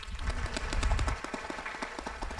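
An audience applauds to welcome Bunny Hilliard at a talk on a Black-owned bookstore, a fairly faint run of scattered, rhythmic claps from a modest crowd.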